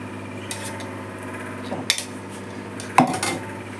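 A metal spoon clinks and scrapes against a cooking pot while ghee goes into home-cooked dum biryani, with a few scattered taps and one sharper clatter near the end over a low background hum.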